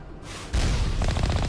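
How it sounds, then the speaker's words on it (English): Enemy gunfire erupts in the Mass Effect video game as a sudden loud burst, then continues as a rapid, rhythmic volley of shots that stays close and dense. "guys are shooting at me"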